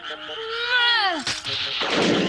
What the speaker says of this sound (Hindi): लेकिन ये तो नकली मेंढक है।